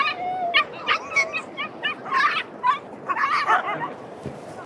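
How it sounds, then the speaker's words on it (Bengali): Dogs fighting and running on a beach, with a rapid series of yips, whimpers and short barks in close, uneven bursts over a steady background hiss. "আরো ওরা কুত্তারা মারামারি দৌড়ায় করে।"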